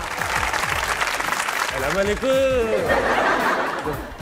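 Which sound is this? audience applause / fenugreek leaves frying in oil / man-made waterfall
audience applause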